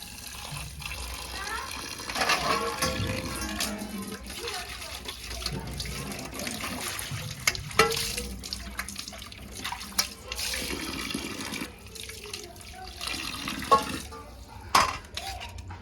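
Tap water runs and splashes in a sink while goat legs are scrubbed clean for soup, a steady wash of water with some clatter from the vessel, and a voice talks over it now and then.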